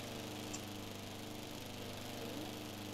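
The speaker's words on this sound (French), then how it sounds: "Attends, Eva, rentre dans la tondeuse." A lawn mower engine in Roblox Brookhaven drones faintly and steadily without change, with no voices over it.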